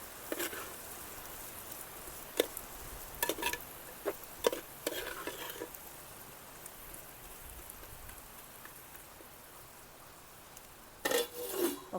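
Ingredients, including ginger, being mixed by hand in a bowl for a traditional village-style Indian mackerel brine. Quiet, scattered taps and soft scrapes come in irregular bursts over a near-silent background, with no voices.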